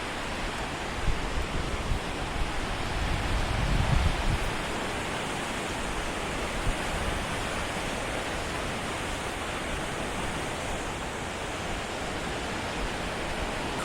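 Rushing river water roars in a steady, broadband wash throughout, loud and close with no clear gaps, as if standing on a slippery bank beside a fast current strong enough to pull someone under.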